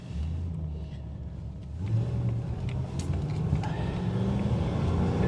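A 1960 Jaguar Mk2 (Beacham) sedan fitted with a supercharged XJR engine runs from inside the cabin, a steady low rumble that swells a little louder about two seconds in and holds on.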